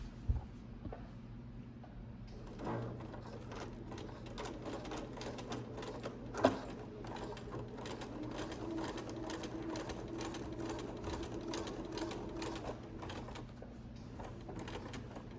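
A sewing machine runs slowly and steadily, stitching a yellow patch onto fabric, its quiet mechanical whir carrying on continuously at close range with no talking.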